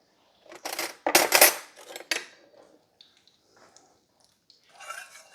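A spoon and dishes clatter and clink sharply in bursts while beans are served for a corndog supper, then quieter scrapes and light taps follow, with no one speaking.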